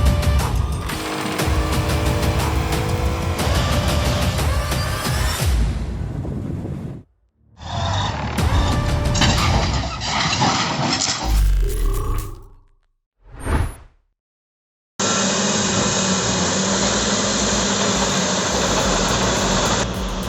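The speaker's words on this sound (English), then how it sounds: "The D10N's blade provides a steady shove, backing up the CAT 651 E-Scraper's hydraulic cup so it can load the payload" Heavy earthmoving engines of a Cat D10N bulldozer and a CAT 651 scraper roar loudly in several abruptly cut segments, broken by short silent gaps.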